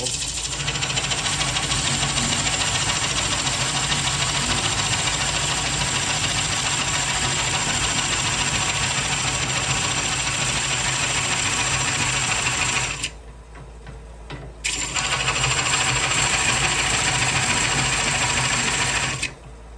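A wood lathe spins steadily while a Oneway Easy-Core cuts into a bowl, giving a loud, continuous whir and rumble that stops briefly partway through and then resumes at full strength.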